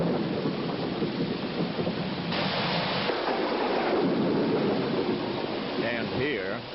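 Heavy rain pours steadily at night in Kuala Lumpur, Malaysia, a dense continuous roar with low thunder rumbling beneath and a brief voice near the end.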